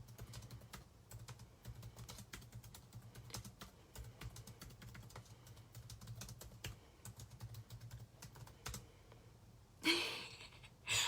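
Steady typing on a computer keyboard, quick light key clicks running continuously close by, with a louder burst of clatter near the end.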